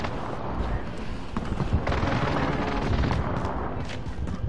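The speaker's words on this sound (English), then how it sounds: "Allied precision airstrike incoming" Precision airstrike explosions in Call of Duty Warzone: a dense, rumbling barrage of blasts and crackling detonations rolls on without pause, loud and broad.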